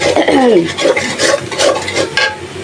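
Spice paste for a jackfruit curry with dried fish is fried and stirred in a pan, with loud scraping strokes and a crackling sizzle up close, and a voice briefly heard at the start.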